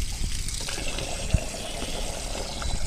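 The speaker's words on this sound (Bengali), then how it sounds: "এখান থেকে কল থেকে জল নিয়ে নিচ্ছি" Water flows from a tap into a container, giving a steady gushing splash close by with one sharp knock partway through.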